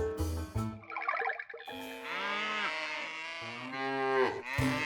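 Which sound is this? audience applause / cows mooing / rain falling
cows mooing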